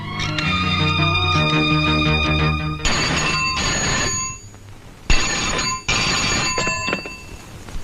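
A telephone rings loudly during a Malayalam film scene as a call is placed to an office. Repeated electronic ringing bursts are separated by short pauses, with no talking.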